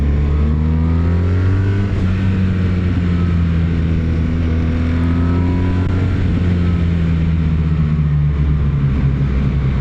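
A BMW R1300R motorcycle rolls steadily on cruise control, its engine holding a constant, loud droning note with wind rush, the pitch rising and easing slightly over a long, unbroken stretch.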